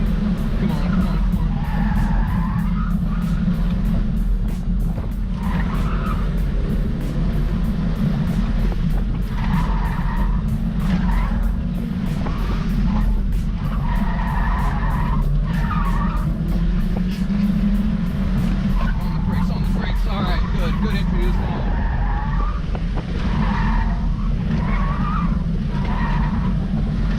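A Volkswagen Jetta at an autocross runs hard with a loud continuous engine roar, and tire squeals rise and fall in repeated swells as it brakes and turns. A voice talks over it.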